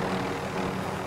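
A helicopter in the video game Call of Duty Warzone roars with a continuous dense rotor and engine drone, loud and close, with no other sound breaking through.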